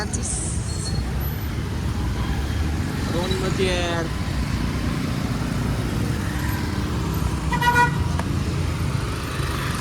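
Congested street traffic in Pokhara with continuous engine rumble and a few horn toots rising above it, one nearer toot around the middle; people talk throughout over the steady road noise.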